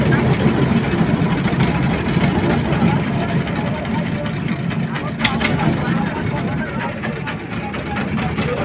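Engine of a river trawler boat running on a long river crossing in Narail, a loud, steady low drone close by, with people talking over it.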